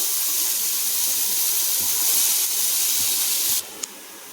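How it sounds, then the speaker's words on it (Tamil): Steady sizzling hiss of chopped onion frying in hot oil, loud and continuous, cutting off sharply near the end with a brief click. "பொடியாக நறுக்குன்னு ஒரு வெங்காயத்தை போட்டு நல்லா வதக்கி எடுத்துக்கலாம்"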